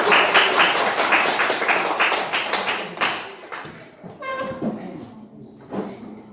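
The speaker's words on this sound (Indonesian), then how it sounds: "Oke, tepuk tangan." Students clap their hands in a classroom, a quick burst of sharp claps for about three seconds that thins into scattered taps, squeaks and light thumps of movement.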